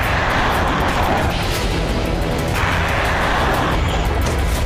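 Russian Su-34 military aircraft flying: a continuous loud, broadband jet roar fills the whole stretch with slowly shifting intensity and no voices over it.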